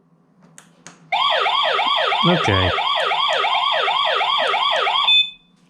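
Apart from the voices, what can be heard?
siren of a Tuya Smart WiFi alarm kit being tested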